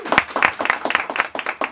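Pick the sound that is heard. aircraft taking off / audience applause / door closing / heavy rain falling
audience applause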